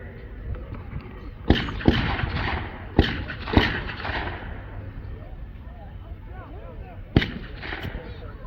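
Blank-fired rifle shots as a fire team lays down base fire at a wartime reenactment open house: a cluster of sharp, loud reports followed by a lone later shot, with crowd murmur and talk throughout.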